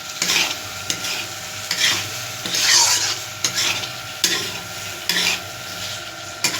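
Fish curry (macher tok jhal) frying in a pan as potatoes are dropped in and stirred, with a steady close sizzle broken by repeated scraping stirs and soft clatters, no voices.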